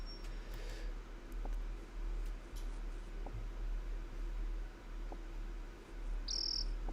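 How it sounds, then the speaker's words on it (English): A chirping cue in Old School Runescape that signals residents are home. It is a high, brief chirp near the end over a steady cricket-like insect drone and background hum, with faint scattered ticks. "that's the noise, that chirping noise that tells you that they're home here"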